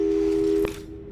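A telephone tone plays in the video game Portal 2, a steady electronic hum that cuts off with a click after about half a second, leaving a faint lingering buzz.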